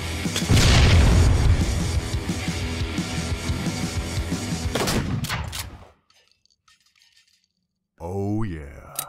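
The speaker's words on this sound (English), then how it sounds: "Covering fire." Covering gunfire in a war skirmish: a dense burst of rapid shots and booms for several seconds, then a sudden drop to near silence, followed by one more loud crack near the end.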